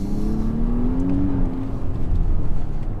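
A 2021 Volvo XC90 T8 Recharge plug-in hybrid accelerates on the road using its electric motor and supercharger, a steady rising whir over loud low road and engine rumble heard from inside the cabin.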